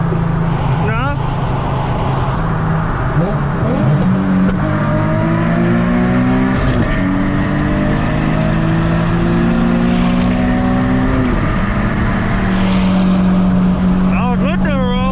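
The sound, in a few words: Nissan 370z Nismo engine revving during race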